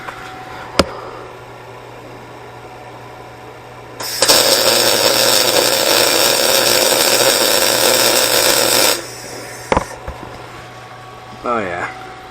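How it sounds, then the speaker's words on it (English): An Everlast MTS 211si multi-process welder lays a bead in a DIY workshop, giving a loud, steady crackling hiss for about five seconds, with scattered clanks and brief workshop knocks before and after. "Boy, this thing welds nice"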